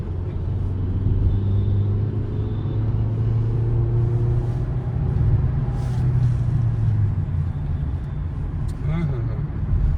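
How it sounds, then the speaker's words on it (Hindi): Petrol 2026 Kia Seltos pulling hard in third gear, a steady low engine drone rising slightly in pitch over ten seconds, heard from inside the cabin with road rumble beneath. "ये देखिए जैसे तीसरे गियर पे उठाई है"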